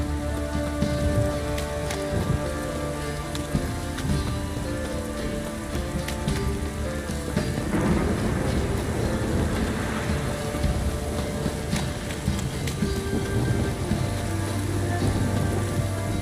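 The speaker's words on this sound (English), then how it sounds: "This downpour's a bastard, it is." Steady heavy rain in The Witcher 3: Wild Hunt, played with a VR mod, pours down without a break, a dense hiss of drops drumming on surfaces, with a low rumbling bed underneath.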